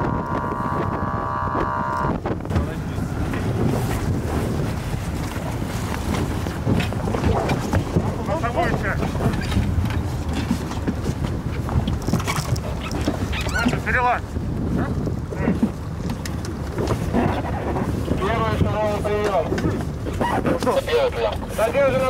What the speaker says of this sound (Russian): патрульный корабль «Таймыр» в преддверии праздника вышел на учения по поимке браконьеров